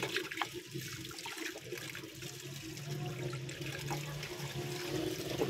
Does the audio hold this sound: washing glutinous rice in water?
yes